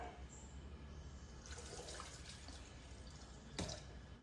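Water runs and splashes into a bowl holding a little milk, a soft trickle swelling into a steadier pour with a brief louder splash near the end.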